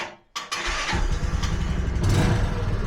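A Bajaj Boxer motorcycle engine fitted with a vacuum carburetor catches on its first start attempt, a brief starter crank giving way to a loud, steady, close-up idle chugging that continues through to the end.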